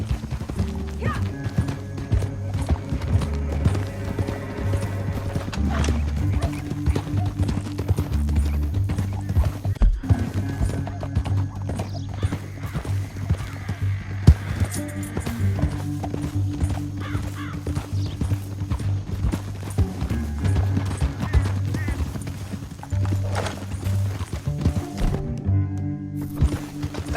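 Horse hooves clip-clop in a rapid, steady galloping rhythm throughout in the video game Red Dead Redemption 2, with an occasional whinny and a low music-like drone beneath.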